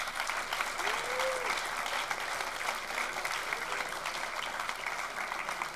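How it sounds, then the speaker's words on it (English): Sustained audience applause at a TEDx event in Heilbronn, a steady dense wash of clapping across the whole stretch, moderately distant with a brief murmur of voices mixed in. "a huge round of applause for them as well"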